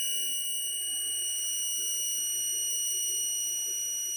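Servo motor on an SMCU drive jog test spinning at 3,500 RPM, giving off a steady, high-pitched electronic whine with layered constant tones and a low hum beneath, unchanging and loud throughout.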